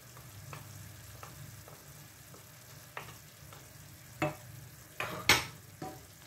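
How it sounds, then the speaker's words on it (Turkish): A tomato paste mixture stirred in a pan on the stove, with a faint steady sizzle under soft periodic scrapes of the spoon, then a few louder clanks and scrapes toward the end; no talking. "Tekrar şöyle bir karıştırıp ocağıma alıyorum."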